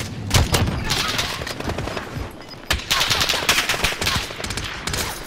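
Rapid automatic gunfire from the video game Warzone on PS5, bursts of loud close shots and sustained firing across the whole stretch, with faint voices beneath.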